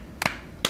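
Two or three crisp hand claps, close by, a quick double strike followed by a single one after a short pause, in a quiet room with no talking.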